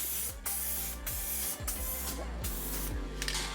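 An aerosol spray can of automotive paint, heated to build pressure, hisses in several short bursts, each a loud, close spray separated by brief pauses.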